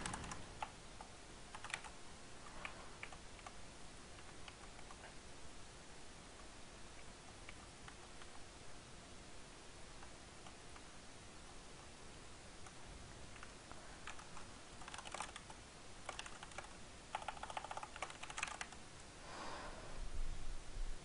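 Steady typing on a computer keyboard continues throughout, with light rapid key clicks and a few louder bursts toward the end, close and quiet with no voices.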